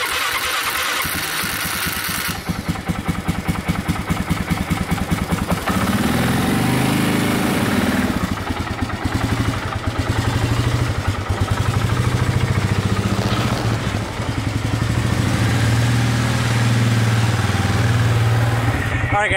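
An ATV engine cranks over, catches and settles into a steady loud idle and revving run up close, with a low throbbing drone that carries for the whole stretch before it heads out for a test drive.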